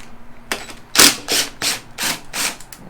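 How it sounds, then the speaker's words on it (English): Screws being removed from a Suzuki GSX-R 600 motorcycle, a series of short rasping clicks and ratcheting bursts in a quick uneven rhythm, close and fairly loud. "So we're gonna remove these two screws here."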